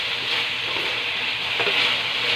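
Chicken liver stir-frying with oyster sauce in a hot pan, a steady close hiss of sizzling oil that holds level throughout, with a faint scrape of stirring partway through and no voices.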